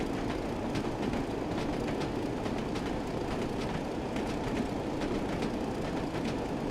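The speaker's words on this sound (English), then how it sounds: "That clickety clack." A BR train in the Train Sim World 5 game rolls along with a steady rumbling drone and a regular clickety-clack of wheels over rail joints, moderately loud and without talk.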